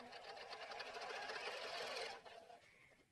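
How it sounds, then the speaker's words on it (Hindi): A sewing machine runs a steady, fast stitch while attaching piping along the neckline of a winter suit, whirring close and continuous for about two seconds before slowing and stopping. "हम यहाँ पर इस पॉइंट पर अपनी ये वाली सिलाई लगाएंगे"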